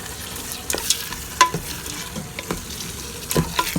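A spatula stirs Sichuan pork belly frying in a wok, giving repeated scraping clacks over a steady close sizzle, with no one talking.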